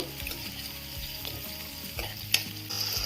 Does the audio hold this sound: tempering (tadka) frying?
yes